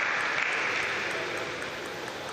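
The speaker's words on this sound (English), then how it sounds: "Warm round of applause" Steady audience applause fills the hall at a university games table tennis singles semifinal in Naples, 2019, a loud, dense wash of clapping that holds evenly and eases only slightly near the end.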